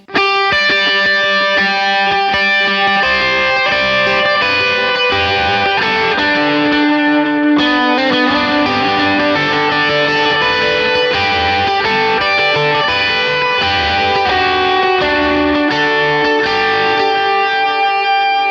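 An electric guitar plays sustained notes and chords through a POD Go compressor effect with high attack and low release, Vox AC30-style tone, heavily processed and evenly compressed, loud and continuous with no talking.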